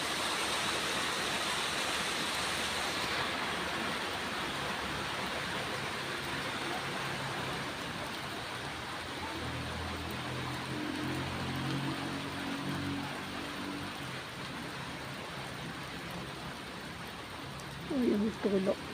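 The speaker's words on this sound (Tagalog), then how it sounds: "Lumalakas ng ulan na naman." Heavy rain pours down steadily in Baguio, a dense unbroken hiss that stays loud throughout, with a brief burst of nearby voices near the end.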